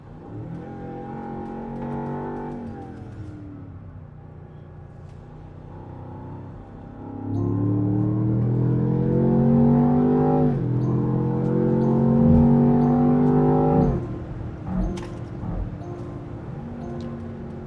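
A Land Rover Defender Octa on off-road tires revs hard with a rising engine note, first in a brief pull, then in a longer, louder climb that cuts off abruptly and settles to a lower rumble close by.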